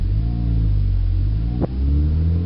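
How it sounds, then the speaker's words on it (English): A car engine hums and revs steadily, then a quick dip and jump in pitch marks a fast gear shift before the engine settles back into a steady drone. "So what you want to hear is an instant change in the transmission."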